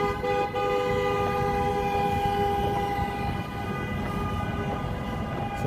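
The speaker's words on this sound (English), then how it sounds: "Somebody literally likes to honk their horn." Horn honking during a street protest in Portland or Chicago: sustained tonal blasts held over a dense, steady roar of traffic and crowd noise, with no clear talk.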